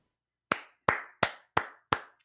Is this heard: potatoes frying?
no